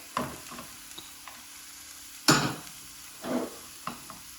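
Peas tipped into a hot pan with ginger and garlic for kachori filling, giving bursts of sizzling and stirring scrapes at intervals, close and fairly loud between quieter frying hiss.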